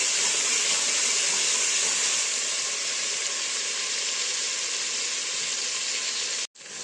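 Chopped tomato frying in a pan with spinach and potato for aloo palak sabzi, a steady, even sizzle and hiss, close and fairly quiet, briefly cut off near the end.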